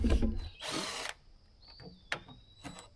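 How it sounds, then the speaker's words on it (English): A power drill backs Phillips screws out of old wood on a hay wagon: one loud, close whirring burst of about half a second, then quieter scattered clicks and taps. "I'm just pulling out all the screws."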